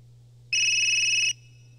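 A cell phone rings in Yomawari: Midnight Shadows, a single bright electronic tone lasting under a second over a low steady hum, loud and alone with no talk.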